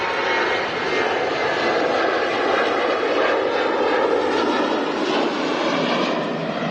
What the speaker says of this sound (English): Another Jet 2737 on the roll.